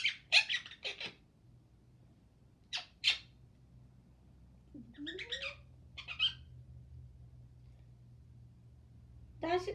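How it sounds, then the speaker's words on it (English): A pet parrot playfully biting gives short, sharp squeaks and squawks in scattered bursts with quiet gaps between them, faint against a still room. "Parrots, they have a habit of like playing and then biting."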